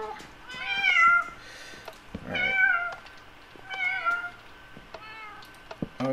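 A Minecraft cat meows repeatedly, four or five clear, close meows spaced about a second apart over soft in-game background sounds.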